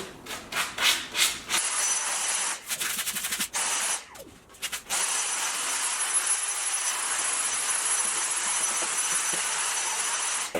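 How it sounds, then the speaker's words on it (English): Sanding a painted wooden vanity smooth before the final coat, a steady close abrasive rubbing hiss that runs almost continuously, broken by a few brief pauses in the first five seconds, with no talking. "You want your final layer of paint to be super smooth, so just sand it down as much as you can."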